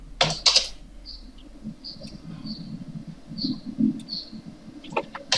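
Keys clatter on a computer keyboard as a command is entered in AutoCAD, a quick burst of clicks at the start followed by a few sparse taps in a quiet room.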